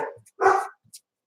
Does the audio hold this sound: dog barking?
yes